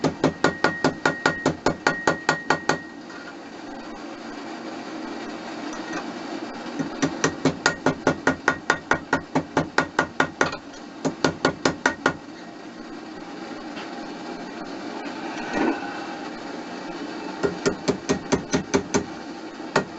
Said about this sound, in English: I've noticed when I'm doing finer work, I end up holding the hammer really low down.